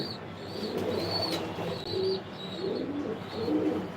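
Racing pigeons in a loft cooing repeatedly in soft, low rolling phrases, with faint higher chirps and a steady hum beneath, no talk.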